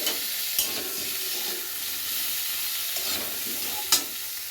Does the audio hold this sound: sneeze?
no